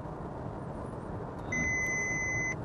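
A Volkswagen Passat's Emergency Assist driver warning sounds as a single sustained electronic beep tone inside the cabin, lasting about a second over the steady road and engine hum.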